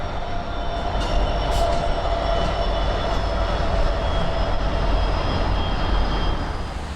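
A coal train sits rumbling on the main line at Irondale yard, a steady broadband engine drone with faint high squeals on top, constant and fairly close throughout.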